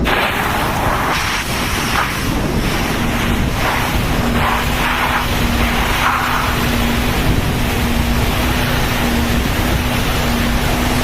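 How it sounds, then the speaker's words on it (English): A fire truck's compressed air foam system nozzle spraying dry foam, a loud, steady rushing hiss with wind buffeting and a constant pump drone underneath, continuous throughout. "so you hear a little bit less of the truck and a little bit more of the nozzle"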